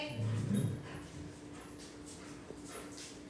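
A pet dog named Peppa whimpers in a short, soft, high-pitched burst near the start, then fades into quiet room noise.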